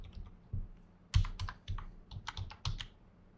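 Someone types on a misbehaving computer keyboard, giving close, irregular bursts of clicky key presses with short pauses between them and no voices.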